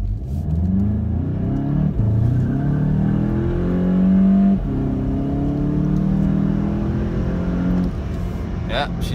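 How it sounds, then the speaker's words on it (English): A Volkswagen Golf in sport mode accelerates through the gears, its engine note rising in repeated sweeps with brief dips at each shift, loud and close from inside the car. "It's warmed up, so let's just put it into sport mode."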